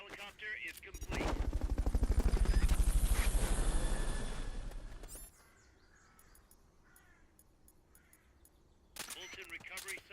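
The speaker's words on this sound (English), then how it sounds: "Fulton recovery subject confirmed onboard helicopter." In the video game Metal Gear Solid: Peace Walker, a Fulton recovery helicopter sounds as a loud rising and falling rotor roar for several seconds, then cuts to quiet game ambience before another burst.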